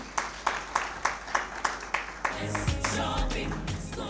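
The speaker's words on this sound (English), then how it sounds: "Another round of applause to Tinashe." Audience applause at a Winter School event at Victoria Falls, starting as slow, evenly spaced single claps that swell into fuller, continuous clapping from a crowd.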